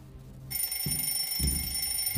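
An alarm clock in the video game Metel starts ringing suddenly with a steady, shrill electronic tone, while low thuds sound underneath.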